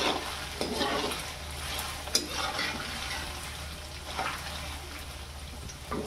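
Vegetables for veg biryani lightly frying in oil over a high flame, a steady soft sizzle with occasional stirring scrapes and clinks, close by and without speech.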